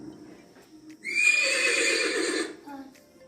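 A horse whinnies loudly for about a second and a half, a bright, wavering neigh up close that rises sharply and then tails off, with faint low murmuring before and after.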